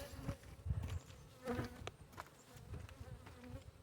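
Bees hum faintly around a Layens hive in September, with soft, uneven buzzing and a few light knocks and rustles nearby.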